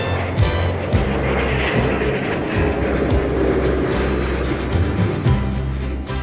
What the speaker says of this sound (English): Watch what happens as this aircraft speeds up for takeoff.